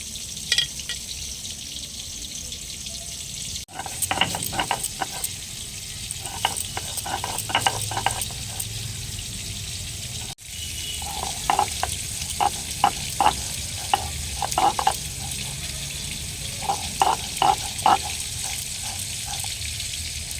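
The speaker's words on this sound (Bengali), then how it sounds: "প্রথমে আমি পেঁয়াজটা একটু ভেজে নেব।" Onion frying in a pan while being stirred, a continuous sizzle broken by repeated scraping and clinking strokes of a spatula, with two short sharp gaps and no voices.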